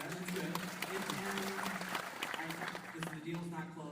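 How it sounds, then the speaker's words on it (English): Scattered audience clapping at an interview event with the Zillow CEO, a light patter of hands running beneath a voice talking. "There's some clapping over there."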